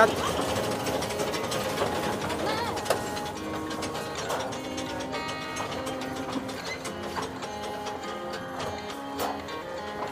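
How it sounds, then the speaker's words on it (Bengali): A small toy train at the rail museum near Howrah station, Kolkata clatters along its track with a continuous mechanical whir and rhythmic ticking, steady and close, with faint voices in the background. "এই আবার এসে হাওড়া স্টেশনে দাঁড় করে দিল টয় ট্রেন"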